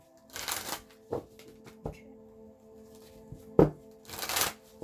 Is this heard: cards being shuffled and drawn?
yes